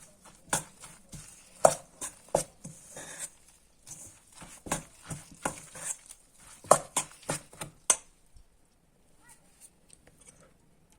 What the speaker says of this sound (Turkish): Malzememizi güzelce karıştıralım arkadaşlar.